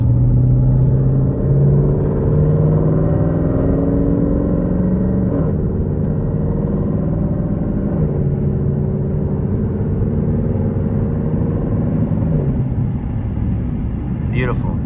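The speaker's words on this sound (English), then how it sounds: "I want you guys to get an inside view of how it sounds." Cabin view of a cammed Jeep SRT on the road, its engine a steady, loud, deep rumble with lopey idle character, holding low revs through smooth gear shifts.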